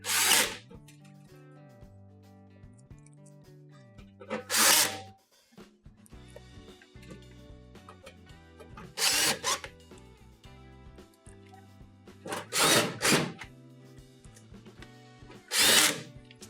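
A power drill backs screws out of a Whirlpool stove panel in several loud, whirring bursts of a second or so each, separated by quieter handling sounds and clicks.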